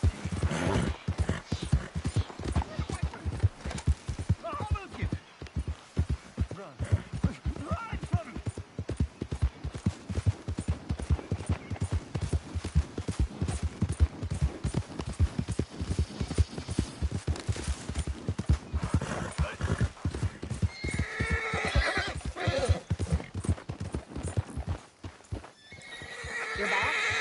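Horse hooves clip-clop in a steady rapid rhythm with whinnies and neighs from a horse in the Red Dead 2 video game, loud and continuous throughout, with brief quiet near the end.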